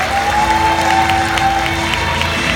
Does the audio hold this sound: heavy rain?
no